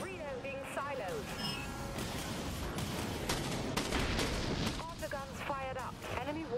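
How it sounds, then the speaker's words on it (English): Warship guns booming in the space combat game Dreadnought, repeated heavy blasts over dense battle noise, with a synthetic voice speaking over the barrage. "Guns fired up."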